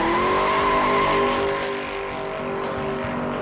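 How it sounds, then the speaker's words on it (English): A Mustang GT fitted with a four-link rear suspension drives on a track, its engine a loud steady roar holding close to the listener for several seconds, easing slightly partway through. "Hey, see you back at the shop after we take it for another little ride."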